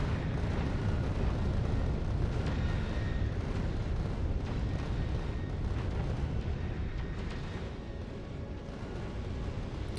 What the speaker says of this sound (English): It's because the rockets are getting active here.